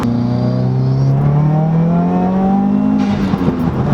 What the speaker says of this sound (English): the turbo spool is insane in these